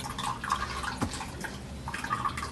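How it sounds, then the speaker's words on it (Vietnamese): Soaked black and white sticky rice for xôi nếp than being rinsed with plenty of water, heard as a close, steady run of tap water with bright drips and splashes that briefly settle before picking up again. "Bây giờ mình xả nha, xả nước lại, mình xả lại nhiều nước ha để cho nó ráo nha."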